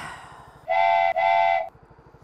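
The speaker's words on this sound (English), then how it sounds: "It's all a bit train-whistle-tastic today." A train whistle sounds loud and clear in two long blasts with a brief break between them, rising out of a quiet rumbling background, with no speech.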